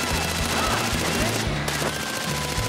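Rapid automatic gunfire in the video game Far Cry 4, a dense continuous stream of shots with repeated heavy low thuds, loud and close throughout.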